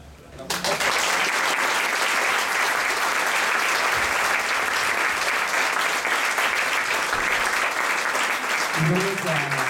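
Audience applause for Juan Antonio Flores at the Universidad Veracruzana, loud dense clapping that bursts in after a quiet instant and holds steady for nearly ten seconds.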